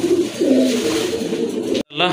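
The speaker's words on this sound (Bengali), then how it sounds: "আরেক জোড়া কবুতর, খুবই কিউট এক জোড়া কবুতর" Caged pigeons for sale give low, drawn-out coos close by, followed by a sudden break and a brief voice speaking at the end.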